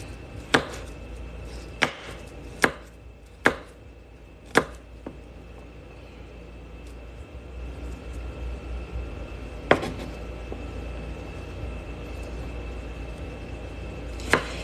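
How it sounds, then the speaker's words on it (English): A knife crushes and cuts garlic cloves on a board, giving a series of sharp, separate thunks spaced about a second apart, then a pause before two more isolated chops over a low background hiss. "we're gonna crush it with our knife. And then do a little cut"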